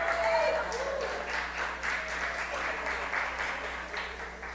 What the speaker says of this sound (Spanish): acepto el aplauso